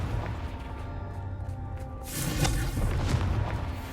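A Confringo blasting spell going off in Hogwarts Legacy, with a low rumbling boom swelling midway over an ongoing game ambience, loud and close.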